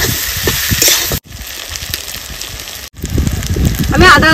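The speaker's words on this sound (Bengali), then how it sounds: "সবকিছু এবার আমি সুন্দর করে মিশিয়ে নেব আর সুন্দর করে ভেজে নেব।" Taro stolons frying in a pan with chillies, turmeric and salt, giving a steady loud sizzling hiss with brief breaks and faint stirring.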